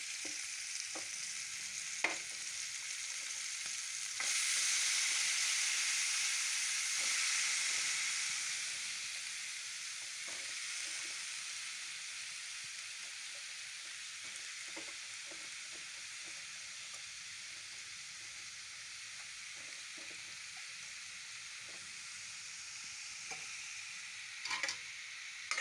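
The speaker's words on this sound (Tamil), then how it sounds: "தக்காளி வெங்காயத்தை நல்லா வதக்கணுங்க." Tomatoes and onions sauté in a pan for spicy chutney, giving a soft, steady sizzle with scattered light stirring clicks. The sound is fairly quiet and continuous throughout, with no talking.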